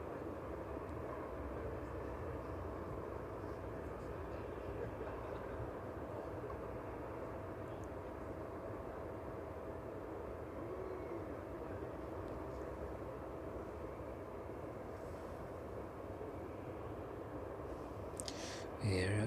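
A 31-year-old Boeing 767 jet passes overhead on approach to East Midlands Airport, a steady broad engine roar holding throughout at moderate distance, with brief talk near the end.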